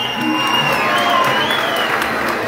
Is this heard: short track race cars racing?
no